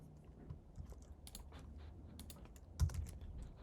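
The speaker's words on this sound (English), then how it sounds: "Actually, let's type it out." Typing on a computer keyboard while entering code, a run of soft, irregular clicks at close range with one louder key strike near the end, no talk over it.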